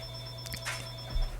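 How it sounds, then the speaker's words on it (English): A telephone rings indoors with a short burst of bright electronic tones over a steady background hum, moderately loud and heard without talking. "This telephone needs to stop ringing."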